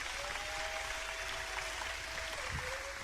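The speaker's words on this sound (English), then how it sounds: "Round of applause." Comedy club audience applauding and cheering as a steady, dense wash of crowd noise that holds at an even level throughout, with a faint tone threading through the middle.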